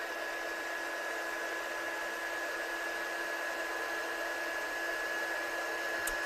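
A heat gun blows steadily while heat embossing a handmade card: a continuous, even rushing hiss with a thin whine on top, close and unbroken for the whole stretch, with no talking.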